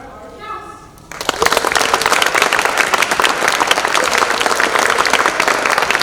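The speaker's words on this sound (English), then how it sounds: "And we have another round of applause for our cast." A live audience at a stage production breaks into loud applause for the cast right after a short spoken introduction, the clapping dense and sustained through the rest of the moment.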